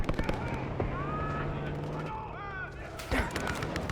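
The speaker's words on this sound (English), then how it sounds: "We've got gunfire to the right." Combat gunfire in the Call of Duty Black Ops 6 campaign, rapid bursts and cracks with a blast near the end, set among radio-style voices and whistling tones in a busy battle mix.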